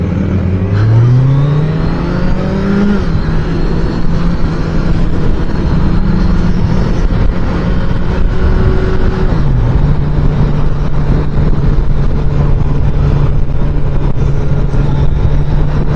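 A 2023 Kawasaki Z900 motorcycle accelerates through the gears while being ridden, its engine note climbing and shifting under constant loud wind rush, close and continuous.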